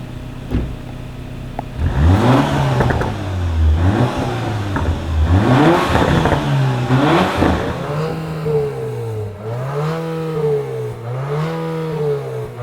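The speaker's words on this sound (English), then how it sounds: "2-liter for 2-liter exhaust sounds" A 2022 Infiniti QX55's 2-liter engine revs repeatedly through its exhaust, rising and falling in several throaty bursts, then settling into a rhythmic series of shorter revs.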